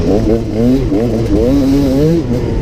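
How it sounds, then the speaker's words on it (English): The engine of a KTM EXC 300 dirt bike is blipped repeatedly on the throttle, its revs snapping up and falling back in quick, wavering surges. The motor sounds near and loud throughout. "Straight away it's more snappy on the throttle."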